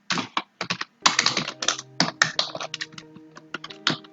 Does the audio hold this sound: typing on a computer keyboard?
yes